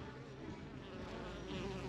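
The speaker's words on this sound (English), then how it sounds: "Look at all those bees." A dense, steady drone of many bees buzzing close by, with no voices.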